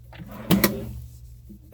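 A hotel room nightstand drawer slides open with a short, fairly close wooden rumble and clack, followed by quiet room tone and a brief rustle.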